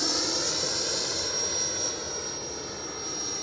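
An FMS Viper 90mm electric ducted-fan RC jet flies past, giving a steady high whine with a thin tonal line and airy rush that eases slightly as it passes at moderate distance.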